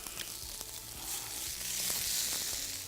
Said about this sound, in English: So a little sunflower oil in there, and straight in with the snorkers.